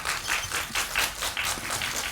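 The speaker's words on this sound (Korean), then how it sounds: "박수로 맞아주시기 바랍니다." Audience at a Korean film press conference claps to welcome the director and cast, a moderate, even round of applause with a loose pulsing rhythm that carries on steadily throughout.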